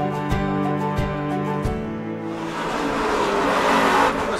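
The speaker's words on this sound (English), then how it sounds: "Ooh, a lot of wheel spin back there on that." A car spins its wheels with squealing tires, a loud sustained screech and engine roar building over a few seconds after some rhythmic thumps at the start.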